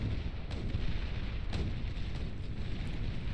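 Sheldon bots firing in the strategy game Beyond All Reason, a dense, continuous barrage of distant cannon booms and bursts in a large battle, with no talk.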